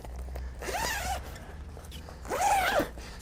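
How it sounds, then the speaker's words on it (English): Zipper on the bed screen of a 2022 Pleasure-Way Ontour 2.0 camper van pulled open in two close, loud, rasping runs, each about half a second, with a pause between. "there's another zipper that you can open up so that you can have the screen open"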